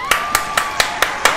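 Six sharp hand claps at a steady, quick pace, close by, with a faint tone lingering underneath, heard during GTA 5 modded gameplay.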